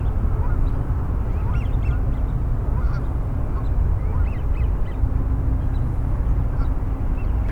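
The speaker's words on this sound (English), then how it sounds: "Seagulls are the one making all the noise." Seagulls calling repeatedly at an early-morning riparian preserve near pelicans, over a constant background roar of wind or surf, their cries scattered and fairly distant.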